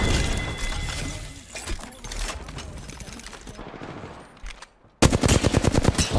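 Video game shootout with rapid automatic gunfire in bursts, a clattering run of shots followed by a sudden loud close-range volley near the end, with no talking.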